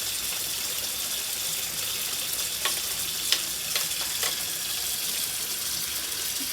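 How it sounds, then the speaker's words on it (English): Pork ribs simmer in a covered pan turned down low, giving a steady close hiss and bubbling sizzle with a few faint clicks and pops and no voices. "And let it simmer."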